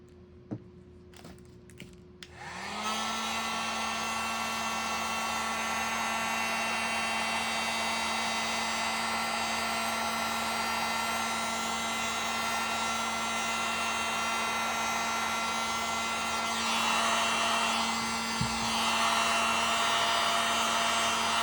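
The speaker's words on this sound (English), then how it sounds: "And then we'll just take our heat gun." A heat gun starts up after a few soft handling noises and blows with a steady, loud whooshing hum at close range while soap packaging is being sealed, with no talking over it.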